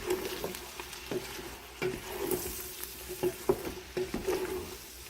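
Onions, bacon and cabbage being stirred in a frying pan, with a soft background sizzle broken by repeated scraping and clacking strokes of the utensil against the pan, fairly quiet and close.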